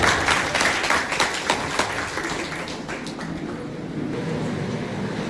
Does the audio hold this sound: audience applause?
yes